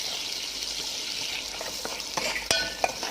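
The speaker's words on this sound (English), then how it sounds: "once you start frying dry fruits in butter" Almonds, raisins and cranberries sizzle softly in butter in a pan, with a few sharp clinks of a utensil against the pan near the end.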